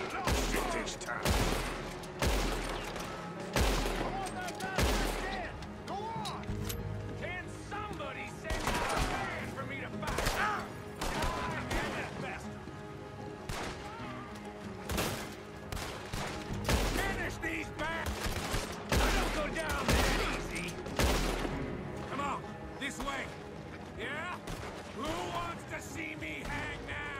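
Gun battle in Red Dead Redemption 2, with rapid, repeated gunshots and fusillades cracking loudly and irregularly over a dense bed of game sound, sustained throughout with bursts of heavier volleys.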